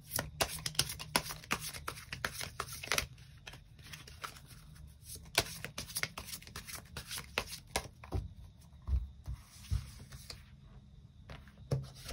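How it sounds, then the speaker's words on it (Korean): Tarot cards being shuffled and drawn for a love reading, a dense run of crisp riffling snaps and flicks up close, with brief pauses and no talking. "두 가지의 방향성을 두고 추가 카드 뽑아보도록 하겠습니다"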